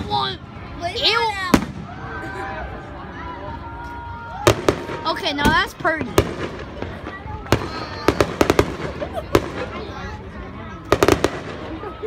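Fourth of July fireworks burst and crackle repeatedly, sharp bangs scattered throughout with whistling rises, while people talk and react nearby.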